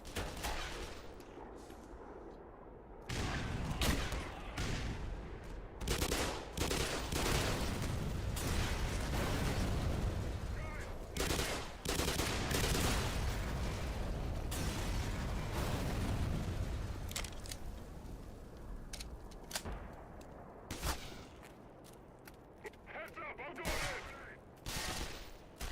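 Enemy rifle gunfire in the Black Mesa video game, loud, dense bursts and rapid volleys of shots running almost continuously, with brief lulls and scattered single pops near the end.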